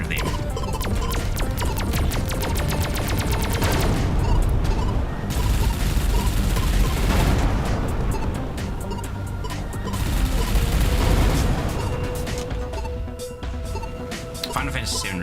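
Missile turrets in the space shooter Everspace 2 launch a dense, continuous barrage of missiles with crashing impacts and explosions, loud and sustained, while a voice talks over the action.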